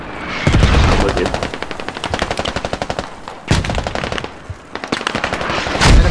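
Sustained automatic gunfire in the military shooter Squad, dense rapid bursts of rifle and machine-gun fire close by, with sharper single shots and pauses between volleys.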